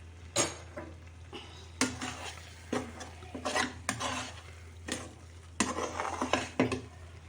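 A spoon stirs flour into spring onions cooking in a pan, giving repeated scraping strokes in irregular bursts, close and moderately loud, with a faint sizzle underneath and no talking.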